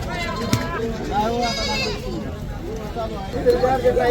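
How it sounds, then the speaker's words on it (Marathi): Goats bleat at a crowded weekly goat and kid market, several wavering cries rising over a steady murmur of nearby voices and chatter, fairly close. "आज भरपूर प्रमाणात शेळ्या पण आलेल्या आहेत हे तुम्ही बघू शकता"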